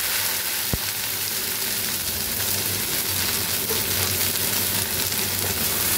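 Okra with a dried red chilli and nigella seeds sizzles loudly in hot oil, a dense continuous frying hiss broken by a sharp spatula knock and a few stirring scrapes.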